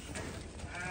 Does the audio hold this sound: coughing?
no